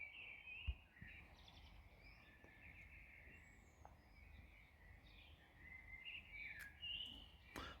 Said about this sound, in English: Eurasian blackbird, a blackbird here in the UK.